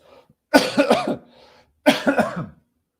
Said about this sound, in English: I feel terrible that I'm having a cough this week.